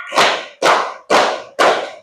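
Rhythmic hand clapping in a classroom clapping chant: four loud, evenly spaced claps about half a second apart, each ringing out with a short echoing tail.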